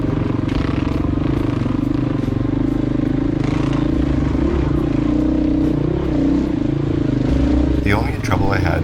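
A dual sport dirt bike engine drones steadily on a dirt trail near Moab, Utah, close and constant, with a rider's voice talking over it and a sharp clatter near the end.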